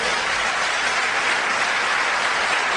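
A church congregation claps together in a dense, loud, continuous burst of applause, with no voices rising above it.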